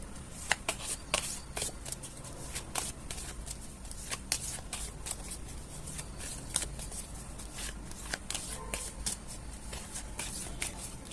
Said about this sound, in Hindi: वीडियो को पॉज करके तब तक मैं शफल कर रही हूँ